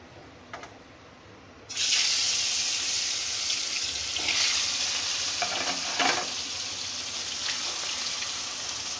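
Fish pieces for a fig and fish curry drop into hot oil and burst into a loud, hissing sizzle that carries on steadily, with a few spatters and clinks and no talk.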